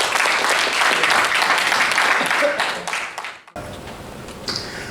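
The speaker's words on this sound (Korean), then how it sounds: "큰 박수로 환영해 주시기 바랍니다." A seminar audience breaks into loud, sustained applause welcoming a lecturer, a dense wash of many hands that cuts off sharply and gives way to a quieter room.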